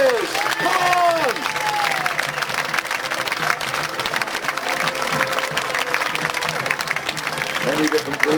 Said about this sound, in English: please give a big cheer for the troops who would have fought the First World